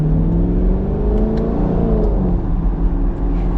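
Chevrolet Camaro SS V8 engine revving, a loud, close, clean-toned rise and fall of engine pitch with no talking over it.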